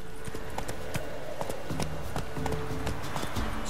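A horse gallops in The Witcher 3 video game, with steady rapid hoofbeats running continuously at close range over a dense game soundscape, with no talking.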